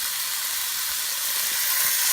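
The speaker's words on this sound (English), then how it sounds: "we're going to be adding just a little bit of water in here" Water is added to a hot pan of onions for a kabob curry, giving a loud, steady, close hiss of sizzling and steam with no talking.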